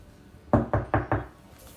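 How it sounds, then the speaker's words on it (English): Four evenly spaced knocks on a wooden door, firm and fairly close, with a short pause before the first and quiet afterward. "they heard another knock"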